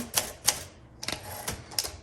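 Typing on a 1963 Olympia SM5 manual typewriter: bursts of crisp key strikes in an uneven rhythm, close and clear, with no talking.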